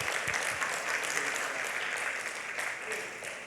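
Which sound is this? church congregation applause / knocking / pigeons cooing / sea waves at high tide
church congregation applause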